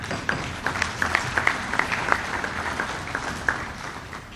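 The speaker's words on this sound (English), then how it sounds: "I'd like for you to give them a round of applause" A crowd at a builders' association gathering applauds its sponsors with a sustained wash of clapping, individual sharp claps standing out near the front while the rest blends into a steady roar.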